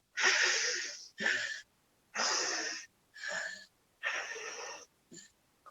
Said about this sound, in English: Now we're going to inhale right, exhale left.